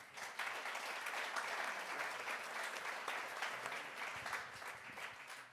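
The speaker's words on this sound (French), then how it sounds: "vous pouvez tous les applaudir" Sustained applause from a conference audience at a gas industry congress, a dense steady wash of many hands clapping that fills the room from start to finish, with no talking over it.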